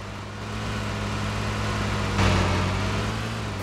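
A BMP armored vehicle in Arma 2 makes a steady, droning engine rumble that grows slightly louder over a few seconds, with a brief swell partway through.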